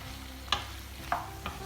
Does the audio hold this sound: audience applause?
no